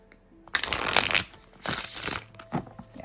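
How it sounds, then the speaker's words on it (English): A slightly oversized, stiff deck of oracle cards printed on quality cardstock is shuffled by hand in three bursts of riffling, crisp flutters separated by short pauses, close and clear with no talking. "I'm going to shuffle them and see how they shuffle."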